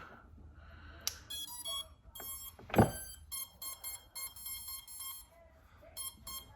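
A series of electronic beeps and short tonal chirps from an iFlight Alpha85 HD tiny whoop FPV drone after its battery is plugged in, close and fairly clear, with a brief louder burst partway through and quiet background noise.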